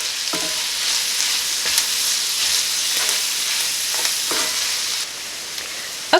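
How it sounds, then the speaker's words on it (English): Onions and celery sauté steadily in a pan, giving a continuous close sizzle with a few faint stirring scrapes and no talking. "we're just going to let that saute for"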